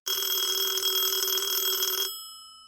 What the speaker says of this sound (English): the phone rings at 4 a.m.